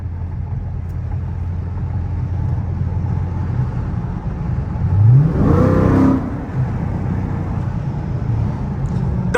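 A Dodge Scat Pack with a loud exhaust accelerates on a night drive, heard from inside the car as a steady low rumble that swells into a brief rising rev near the middle, then settles back to a cruising drone.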